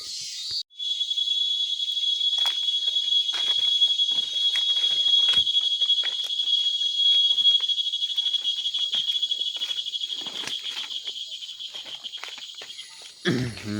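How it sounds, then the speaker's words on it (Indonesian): A buzzing forest insect known locally as the dark alarm drones steadily and loudly in the Kalimantan jungle, a continuous high shrill that holds for the whole stretch and cuts off abruptly at the end. "Dari tadi alarm gelap ini sudah bunyi terus ini"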